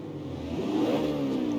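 A modified Mustang in CarX Street, with raised turbo pressure, revs its engine: a rising, droning engine note climbing steadily in pitch and loudness over under two seconds.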